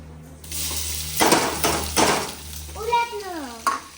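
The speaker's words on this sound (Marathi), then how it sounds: "आता टाकू बटाटा" Potatoes tipped into a hot oiled pan burst into a loud hissing sizzle with clattering stirs, followed by a brief voice over the frying.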